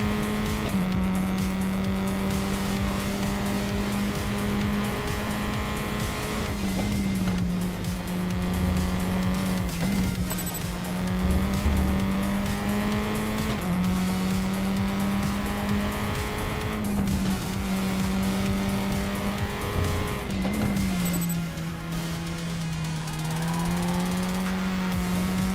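A race car in the RaceRoom racing game drones with a steady engine note, dipping and rising through gear changes and braking, with occasional tire squeal, continuous and close throughout.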